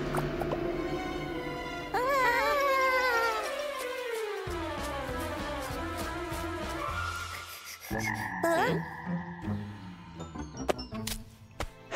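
Cartoon frog croaks in a bright, bouncy animated scene, repeated croaking calls layered over cheerful music with sliding notes and small effects, fairly loud and steady throughout.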